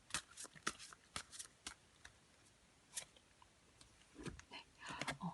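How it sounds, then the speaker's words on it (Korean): Tarot cards being shuffled in a quiet room: a run of crisp riffling bursts and soft slaps that repeats at uneven intervals, close and moderately loud, with no talk over them. "그러면 우리 4번 분들을 위해서도 조언의 카드를 한번 뽑아 볼게요"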